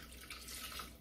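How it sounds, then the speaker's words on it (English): About 500 grams of chilled water pours into a Thermomix TM6 bowl holding freshly made butter, a brief soft steady splash and trickle heard close and faint. "now what we're going to do is add about 500 grams of chilled water"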